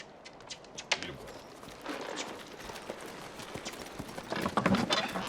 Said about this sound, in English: We're gonna miss all the good horses.